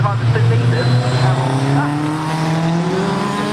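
Locost race cars at Mallory Park circuit accelerate out of the hairpin, their engines rising in pitch in a loud, continuous drone with a possible brief tire squeal. The drone is steady and sustained.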